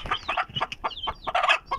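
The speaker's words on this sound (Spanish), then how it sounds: "Acaba de subir el último pollito, miren, aquí está." Chicks and hens cluck and peep in a farmyard pen, a rapid run of short, close calls in irregular bursts, loud and without talk.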